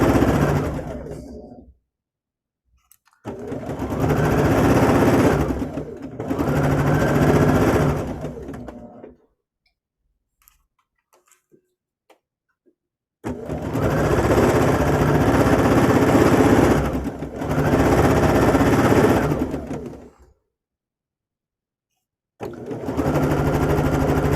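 A sewing machine stitches pieced quilt blocks in long continuous whirring runs with a fast even needle rhythm, loud and close, broken by pauses of silence between seams.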